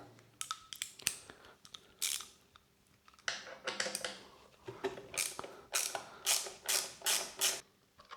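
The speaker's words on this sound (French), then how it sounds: "avec une T30, vous allez dévisser celui-là et celui-là." A T30 Torx driver unscrews the handlebar-end screws on a BMW F900 GS motorcycle, giving close, dry ratcheting clicks in short repeated bursts with small pauses between them.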